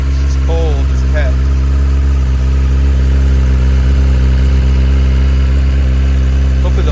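A stock 2023 Kawasaki ZX-10RR sits idling close by on a cold morning with a weak battery, its deep, steady engine drone continuous throughout and a brief short squeal near the start.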